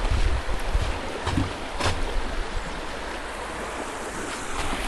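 A cold, crystal-clear mountain creek on the Appalachian Trail near the Pole Steeple loop runs in a steady broadband rush of flowing water, continuous and fairly close, with a couple of brief splashes and no talking.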